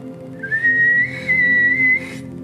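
A thin, high whistle of an incoming artillery shell rises and then holds in two sustained stretches with a brief dip between, loud and close, with no talking.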